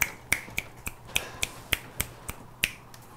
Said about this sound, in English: Snaps. Snaps in the crowd.